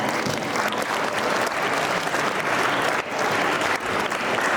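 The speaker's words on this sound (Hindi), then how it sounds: "इस सजीव भाषण के लिए जोरदार तालियां और धन्यवाद" An audience at a Mother's Day celebration at Loyola School, Sitagarha, applauds a speech with a full, steady roar of clapping that carries on strongly throughout.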